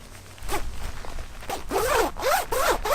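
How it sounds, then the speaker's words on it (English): An anti-snag zipper on a down vest pulled several times in quick strokes, close and crisp, with a short rustle before the first pull. "Anti-snag zipper."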